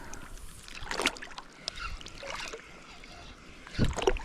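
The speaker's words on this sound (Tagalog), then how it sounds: "Ang laking alon." Waves slap and splash against a small fishing boat at sea in irregular bursts, with a steady wash of water and wind between them; the splashes sound close and moderately loud.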